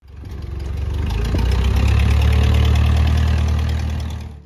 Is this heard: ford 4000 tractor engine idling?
yes